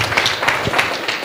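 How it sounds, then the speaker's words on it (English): Workshop audience clapping for Nigeria, a brief burst of crowd applause with distinct close hand claps over a steady patter, fairly loud and without talk. "Let us clap for Nigeria."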